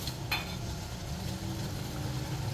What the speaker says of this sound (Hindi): इसे अच्छी तरह से हम मिक्स करेंगे। 1 मिनट के लिए इसे हम भूनेंगे इसके साथ ही।